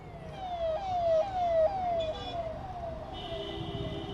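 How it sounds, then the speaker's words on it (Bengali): A passing vehicle sounds an ambulance-style siren: a series of rising wailing sweeps repeats loudly at close range, then trails off into background street noise. "এই যে গাড়িটা গেল হর্ন দিতে দিতে, মানে সাইরেন বাজাতে বাজাতে, যেটা অ্যাম্বুলেন্সে বাজে"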